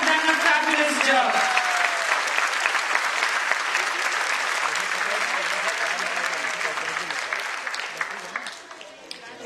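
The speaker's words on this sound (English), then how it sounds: "please give a huge round of applause to all the children who have performed on stage today" Loud sustained applause from an audience at a school annual day show for children performing on stage, continuous dense clapping with a crowd murmur, tapering off toward the end after brief speech at the start.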